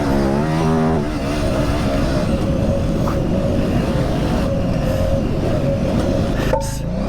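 A KTM 950 Super Enduro motorcycle accelerates hard, its engine roaring loud and steady close by as the revs climb and shift, with wind noise over it throughout.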